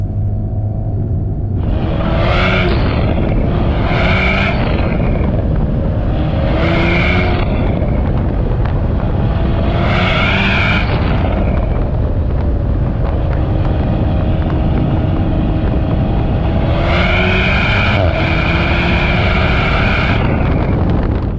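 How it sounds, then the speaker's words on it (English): Loud engine rumble and wind roar in a 2019 Alpine A110, with repeated bursts of high turbo whistling and coughing as the throttle lifts. "you can hear the turbo whistling and coughing and sneezing as you're backing off the accelerator"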